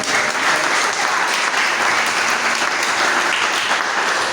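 Loud, sustained applause from a large church congregation, dense and steady throughout with no pause.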